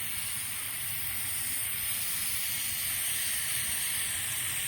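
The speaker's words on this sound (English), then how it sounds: "Spray this guy down." Continuous close hiss of aerosol cleaner sprayed down onto a ratchet being cleaned, one unbroken spray lasting several seconds with no voices.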